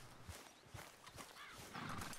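A horse in the video game Red Dead Redemption 2 walks with soft, spaced clip-clop hoofbeats and a brief whinny, faint and close under quiet game ambience.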